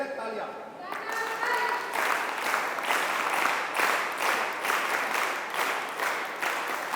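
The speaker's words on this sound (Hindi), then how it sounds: "गुड़िया के लिए तालियां।" A classroom audience at a disaster-management talk applauds, steady dense clapping that builds after a brief lull and carries on evenly, with faint voices mixed in.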